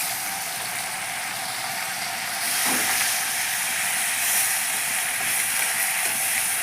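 Onion paste fries in hot oil left from frying prawns, giving a steady, close broadband hiss that grows louder partway through and carries on without a break, with no voices.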